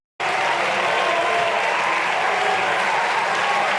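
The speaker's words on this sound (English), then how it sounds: "They're all getting up and clapping for her." A large audience rises to clap for a woman, a sudden dense wall of sustained applause that starts abruptly and holds steady at full volume, with no talk heard over it.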